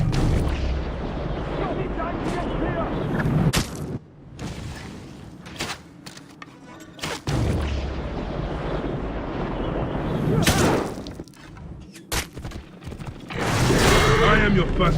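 In Assassin's Creed Origins, a loud burst of game gunfire and booming blasts cuts through a noisy battle scene, with sharp bangs repeating around moments of near silence.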